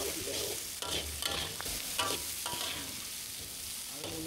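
Prawns with onion frying in a pan for prawn and egg cooking, a close, busy sizzle with repeated scraping stirs of a utensil against the pan and no talking.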